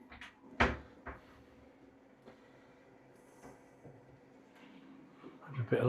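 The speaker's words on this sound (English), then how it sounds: "Squeaky cupboard still." A squeaky kitchen cupboard door opens or closes with a sharp creak and knock near the start, followed by a second knock, quiet household noise and another thud at the end.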